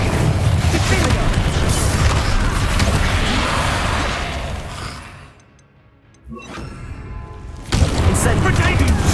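Confringo and Bombarda spell explosions in the Hogwarts Legacy video game, a dense run of loud booms and crashes with game voices mixed in, briefly dropping to near quiet before the blasts resume.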